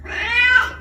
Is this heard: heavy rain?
no